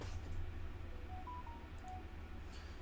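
Phone in the Farming Simulator 25 game going off with a short run of faint electronic beeps, a few soft tones in quick succession over a steady low hum.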